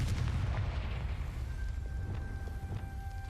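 A Confringo fire spell explodes in the Hogwarts Legacy video game, a deep rumbling blast with low booming bursts rolling on for a few seconds, under faint high tonal game chimes.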